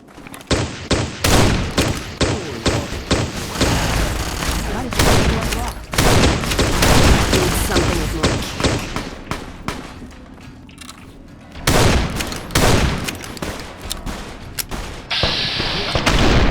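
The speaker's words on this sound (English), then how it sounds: "Who's shooting who here?" Dense volleys of gunfire crack and boom almost without pause in a modded Fallout: New Vegas battle, loud and near, thinning briefly before another burst.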